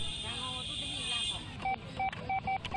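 A short run of telephone keypad tones from a shop telephone in a Myanmar village, several distinct beeps in quick succession near the end, over a muffled background with faint voices.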